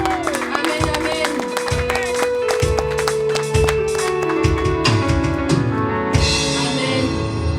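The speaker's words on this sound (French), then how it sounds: "Est-ce que l'adorateur peut applaudir le Seigneur s'il vous plaît?" A church congregation claps throughout, a steady dense wash of hands over sustained organ or keyboard chords, with a voice speaking over the applause.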